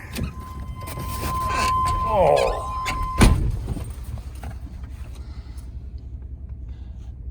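An old plow truck being climbed into, with a door thud and cab rustling over a low vehicle rumble, and a brief voice speaking.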